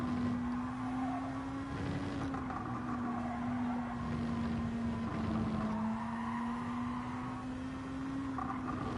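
A Gr.2 race car in Gran Turismo 7 holds a steady high-pitched engine whine at high revs through an endurance race, constant and fairly quiet under a hissy background, with no talking.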